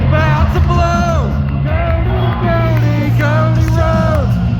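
A packed wrestling crowd cheers for Cody Rhodes, loud rhythmic chants and yells rising and falling in repeated waves from a large arena audience.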